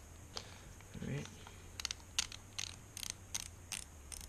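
KastKing Spartacus baitcast reel being reassembled after six months of use, giving a series of short, crisp mechanical clicks in irregular bursts, close and fairly quiet, with a brief murmur of voice early on.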